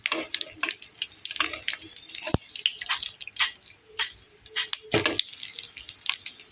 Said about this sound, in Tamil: சூப்பராக பொரியுது பாருங்கள்